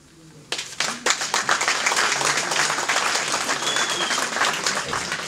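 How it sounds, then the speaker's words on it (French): Audience applause at an associations' tenth anniversary gathering, starting with a few scattered claps, then swelling into full, steady clapping from a large crowd that carries on to the end. "nous allons aussi les applaudir"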